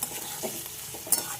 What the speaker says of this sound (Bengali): ফুলকপি গাজর এগুলো আগে ভেজে নিচ্ছি।